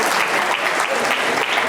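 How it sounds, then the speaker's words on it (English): Applause from an awards ceremony audience for a student animation awards winner, a dense, steady wash of many hands clapping close and loud for the whole short stretch. "Give him a round of applause."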